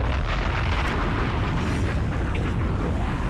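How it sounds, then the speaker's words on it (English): A bomb going off in the zombie survival game Project Zomboid, heard as a sustained, dense low rumble of distant explosion that fills the whole stretch evenly, with no speech over it. "What is the explosion noise? It's a bomb."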